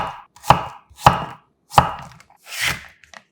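A kitchen knife slicing a quarter of a zucchini into thin 0.3 cm slices on a cutting board, four distinct chopping knocks spaced about half a second apart, crisp and close with no talking.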